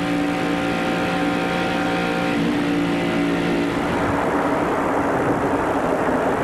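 NASCAR Winston Cup stock cars from the 1994 Winston Select 500 roaring past on track, a continuous loud engine drone with pitch shifting as cars pass by, dense and close without any voices.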